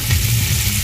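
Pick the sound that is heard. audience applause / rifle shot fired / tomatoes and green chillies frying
tomatoes and green chillies frying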